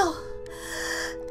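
A voice takes a sharp, sustained gasping breath in during a Yandere Simulator game, ending with a brief voiced catch.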